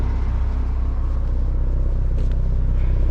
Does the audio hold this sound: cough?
no